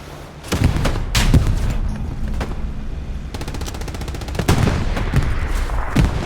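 Gunfire and a grenade blast in the World War II shooter Hell Let Loose: sharp loud shots and booming impacts, then a sustained rapid machine-gun stream, with more heavy reports near the end.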